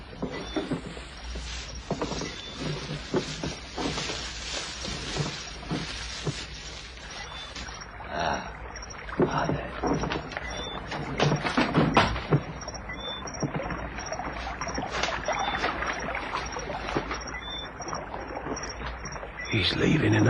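Rowboat oars splash and churn through water in an old radio mystery scene, a steady rhythmic wash running throughout with a persistent high whine and occasional knocks, no voices over it.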